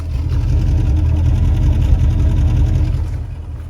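A Chevrolet Avalanche 2500 with the 8.1 V8 idles with a steady low rumble close by, the air conditioning cycling on in hot weather, the drone easing slightly toward the end.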